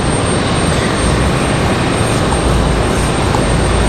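An Airbus A319 approaches Raleigh-Durham International Airport, a loud, steady, broadband engine roar that holds constant throughout, with no voices.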